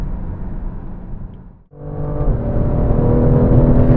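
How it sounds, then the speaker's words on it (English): BMW M2 on the Hungaroring race track, engine droning steadily, then a sharp brief dip before the revs climb again and the engine roars louder and builds toward the end. "And we're on the track in the BMW M2."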